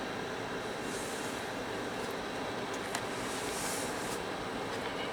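A CN freight train rolls past at Ladysmith, Wisconsin, with new green CP hopper cars in its consist, giving a steady broadband rumble of wheels and cars at a constant level with a faint squeal near the three-second mark.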